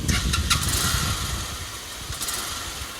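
An RKS RK 125 motorcycle engine cranks and sputters into life, then settles into an uneven idle, close by, with rushing water in the background.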